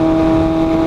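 A Lamborghini Aventador V12 engine drones loudly and steadily at high revs for a brief moment under hard acceleration, with no voices over it.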